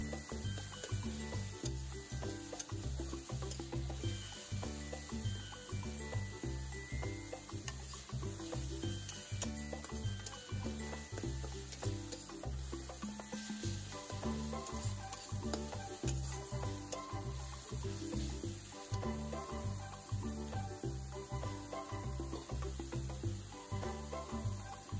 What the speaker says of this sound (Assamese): এইখিনিও অকণমান যেতিয়ালৈকে কেঁচা গোন্ধটো নাযায় নহৰু ভাজি ল'ব